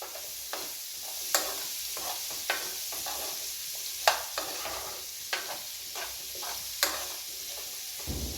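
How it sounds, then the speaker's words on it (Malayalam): Ingredients with green corn sizzle in a pan after salt is added, and brisk stirring adds repeated scrapes and clicks every second or so over the steady frying hiss. "കുറച്ച് ഉപ്പ് ഇട്ട് കൊടുക്കാം ഒന്ന് വഴറ്റി കൊടുത്തിട്ട് വേഗം ഇളക്കി കൊടുക്കുക"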